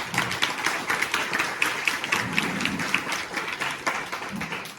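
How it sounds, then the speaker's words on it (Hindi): An audience at an inter college farewell programme in Pauri Garhwal applauds to welcome the chief guest, with dense, sustained clapping from a crowd that fills the whole stretch at a steady level. "आप लोग तालियों की गड़गड़ाहट से उनका अभिनंदन करें।"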